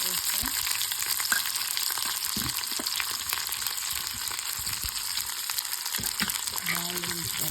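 Dry red chillies and green chillies fry in a pan of hot oil with a steady, close sizzle throughout, broken by a few faint stirring scrapes.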